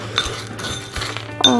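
A spoon clinks against a bowl while mixing chocolate chips, giving several quick bright taps and a scrape, close and distinct, with a louder clink at the end.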